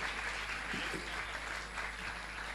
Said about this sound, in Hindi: आप सबकी तरफ से तालियां इनके लिए प्लीज।